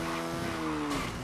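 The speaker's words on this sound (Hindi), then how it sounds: "मज़ा आ गया दोस्तों चला के गाड़ी।" A car in the GTA 5 video game squeals its tires in one brief, sustained screech that slides slightly downward over a steady engine drone.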